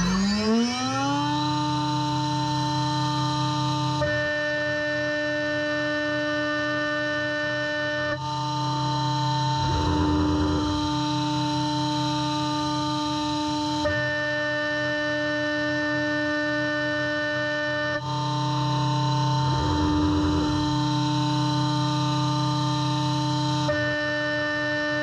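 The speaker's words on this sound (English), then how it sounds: "let's watch and listen to the Delta router bit at work" A CNC router with a Delta router bit cutting wood spins up to a strong, steady harmonic whine, then holds it while cutting, with louder gritty bursts surging at intervals; no one speaks.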